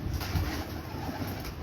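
Pigeons coo softly and continuously at a rooftop loft, low murmuring calls overlapping without pause at moderate distance.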